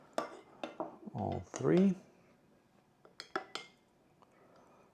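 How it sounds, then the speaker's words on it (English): A spoon clinks and scrapes a few times against a cup while stirring espresso pulled on a Profitec Drive, coming as quick bright taps after people talk nearby. "Stir it up."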